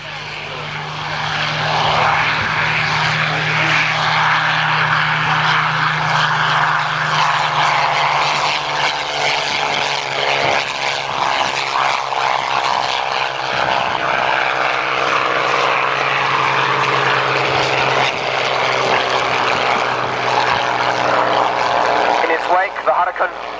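Spitfire propeller aircraft at an air display, a loud continuous engine drone with a steady low hum that holds throughout, close and sustained, with faint commentary underneath.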